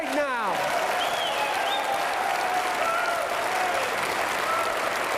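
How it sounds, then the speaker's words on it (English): Applause for a politician, heard live during a radio talk show, with steady dense clapping from the audience throughout and a few voices and whistle-like tones over it. "Nothing better than a politician getting applause."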